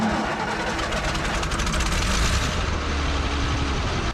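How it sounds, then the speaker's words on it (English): A restored excavator's diesel engine runs at a steady idle, a loud, rough, continuous rumble with rapid knocking pulses throughout and no talk. "Starts right up and idles great"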